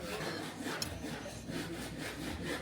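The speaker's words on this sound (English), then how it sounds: "Sound of the drilling in the background." Power drilling from a nearby work site, a faint, rough, grinding whir running continuously in the background, with rhythmic rasping pulses and no clear talk.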